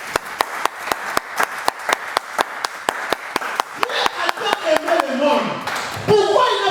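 A church congregation claps in a steady, even rhythm, loud and close. Voices rise over the clapping toward the end.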